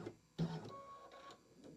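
An embroidery machine stitches a Candy Corn Quilt Shoppe Twilight Boo-levard quilt wallhanging, giving a steady close mechanical whir with a sharp jolt near the start, like a jump stitch.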